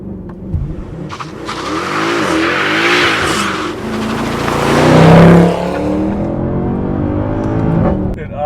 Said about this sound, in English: I find a rolling burnout in Sport Plus is just about the bee's knees on this car.